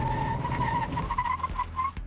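Tires squeal continuously as a Toyota Camry TRD brakes hard, a wavering high-pitched screech over a low engine and road rumble, fairly distant and fading out near the end.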